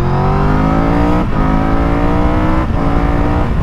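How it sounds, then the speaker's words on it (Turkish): Triumph Tiger 1200 GT Pro motorcycle accelerating hard, the engine note rising steadily through the gear with brief dips at two upshifts, loud and close as if heard from the rider's position. "Öyle ufak bir sport gazlaması yapalım mı?"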